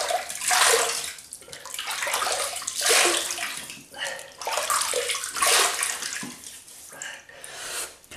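Running water splashes in repeated surges as hands scoop it to wet the face before a shave, close and fairly loud, with brief pauses between splashes.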